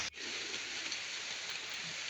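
Steady rain falls on a garden on a rainy morning, a dense, even hiss heard up close with no voices.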